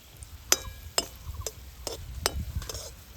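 Oil with three black peppercorns and two cloves bubbling gently over low to medium heat for a home cold remedy, a faint soft simmer broken by sharp, evenly spaced taps and clicks from a utensil in the pan.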